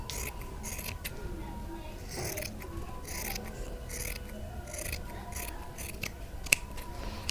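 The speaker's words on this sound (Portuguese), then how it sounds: "Eu vou cortar 2 tirinhas de tecido." Scissors cut two thin strips of fabric for a corn husk doll, giving repeated soft, close snips in a steady rhythm over faint background noise.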